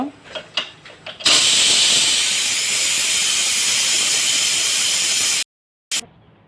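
A pressure cooker holding beef head skin blasts a loud, steady hiss of released steam for about four seconds after a few sharp clicks, then cuts off abruptly.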